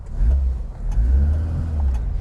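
A Vauxhall Viva HC car's engine revs while driving, a loud, near low drone that rises and swells in two pushes with faint knocks and clicks over the top.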